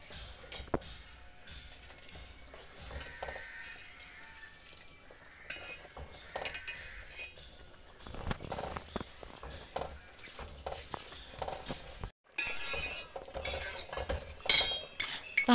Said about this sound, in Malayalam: ഇത് നന്നായിട്ട് മിക്സ് ചെയ്തിട്ട് എടുക്കാം